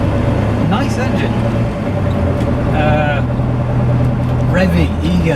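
A Morris Marina's engine runs steadily with a low continuous drone and brief revving swells, recorded close up under an ongoing mix of traffic-like noise.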